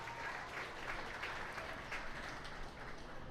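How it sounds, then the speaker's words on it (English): Spectators at a 4-H beef cattle show applaud the young exhibitors, a soft, distant wash of steady clapping heard faintly throughout, with no talk over it. "let's give them a great big round of applause"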